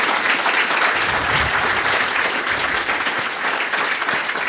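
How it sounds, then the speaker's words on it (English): Audience applause honouring Irish Defence Forces peacekeepers at a university alumni awards ceremony, a loud, dense and steady ovation of many hands clapping throughout. "It deserves a round of applause,"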